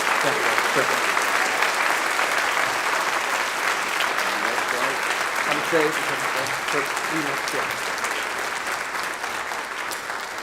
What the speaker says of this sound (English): Please give these students a round of applause for their outstanding work.